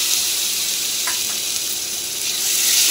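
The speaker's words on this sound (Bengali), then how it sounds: "এবার আমি দিয়ে দেবো আদা রসুন।" Ginger garlic paste sizzles in hot oil over onions fried until red, a steady close hiss with a few faint stirring clicks and no voice.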